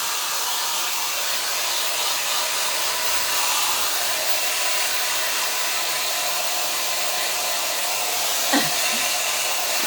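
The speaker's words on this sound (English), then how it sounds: "This is the Ion diffuser." An ion diffuser hair dryer blows continuously, a loud, close, steady airy hiss and whir that holds even throughout, with no talking over it.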